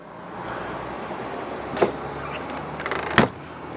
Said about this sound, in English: Power pull-out awning